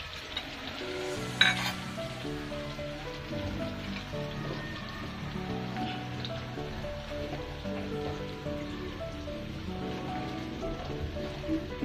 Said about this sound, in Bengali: মশলাগুলো একটু হালকা ভেজে নেব